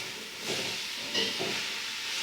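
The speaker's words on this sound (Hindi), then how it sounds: "अब इसको अच्छे तरीके से फ्राई कर लेना है" Food fries in a pan with chilli and salt, giving a soft, continuous hiss and sizzle with faint stirring scrapes close by.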